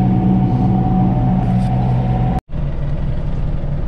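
A utility tractor mower engine drones loudly at steady revs nearby, cutting out for an instant before resuming, with no voices.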